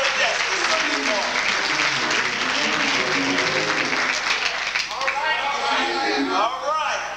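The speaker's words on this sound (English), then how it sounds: "Let's give round of applause for your pastor, Pastor Green" Church congregation applauding the pastor during a Sunday morning service, a dense sustained round of clapping filling the room while a voice talks over it near the end.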